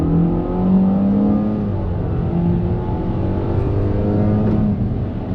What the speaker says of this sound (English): let's go ahead and do a little acceleration test here.